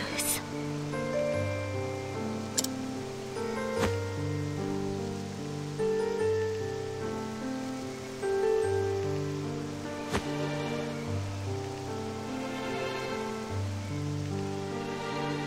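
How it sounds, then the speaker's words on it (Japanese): Rain falling in the game Octopath Traveler 2, a steady patter beneath a looping tonal music score, with a few sharp drop-like ticks standing out. "雨"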